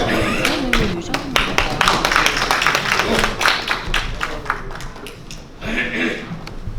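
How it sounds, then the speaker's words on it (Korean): Audience applause welcoming Kim Ho-il, head of the Korea Senior Citizens Association, to the stage at a 2024 Korean ceremony: dense, sustained clapping from a hall crowd, steady and fairly loud throughout, with some voices mixed in. "박수로 맞이해 주십시오."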